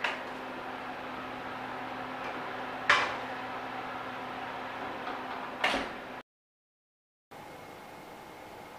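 An oven door thuds and clatters twice as mung bean bread is put in to bake, two sharp, moderately close knocks over a steady kitchen hum, followed by a brief silence.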